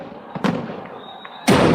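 Fireworks go off over a stadium at the opening ceremony of the Rajiv Gandhi Rural Olympic Games in Jaipur, with sharp bursts and pops, one near the start and a loud blast at the end, over a low crowd rumble.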